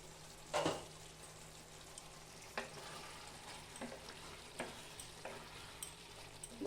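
Chilli chicken sizzling and frying in a pan once the lid comes off, a steady crackling bed with a few sharper stirring scrapes and clicks scattered through, fairly quiet and close.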